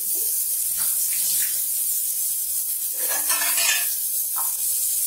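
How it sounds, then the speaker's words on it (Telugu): Small-cut chicken pieces fry in a pan for a chicken pulao, with a steady loud sizzle and intermittent stirring scrapes and clatter of a utensil against the pan. "ఈ చికెన్ కొంచెం వేగాలి."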